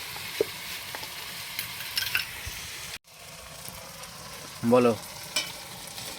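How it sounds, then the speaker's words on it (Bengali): Tomato fries in a pan after ginger garlic paste, giving a quiet sizzle and a few soft stirring scrapes, with one louder clatter near the end. "আদা রসুন পেস্টের পর টমেটো দিলাম"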